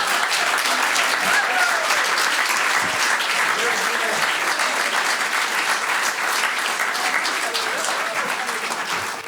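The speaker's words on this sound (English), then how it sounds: "Let's give Mike another big round of applause." A live storytelling audience gives sustained, loud applause for about nine seconds, an even dense clatter that tapers slightly at the end, with a few voices underneath.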